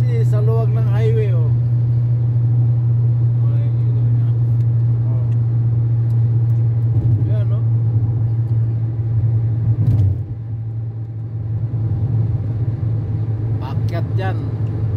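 A car speeds along a wide highway in Riyadh, a steady loud engine and road rumble heard from inside while people chat over it.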